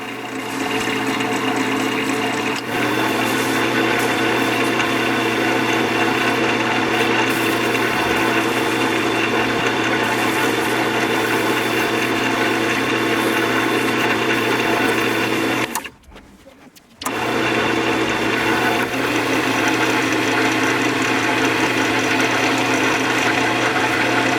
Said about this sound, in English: now I'm going to turn the lathe on slow speed and gradually bring the speed up.